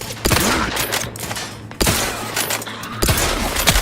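Gunfire in the video game The Outer Worlds 2, with bursts of rapid shots in three sharp clusters starting abruptly, close and loud, with bits of game effects between volleys.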